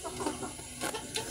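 Backyard chickens clucking softly at close range, short uneven calls scattered among scratching and pecking noises, with a faint steady hiss underneath and no talking.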